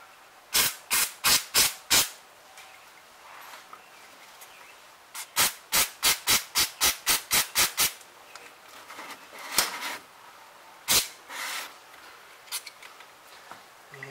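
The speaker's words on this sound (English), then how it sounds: "I'm going to grab some brake parts cleaner because I didn't think it was going to be that dirty" Brake parts cleaner sprays onto a Ford Ranger's brakes in sharp hissing bursts, first a quick run of short spurts, then a longer series, then scattered single blasts over faint background noise.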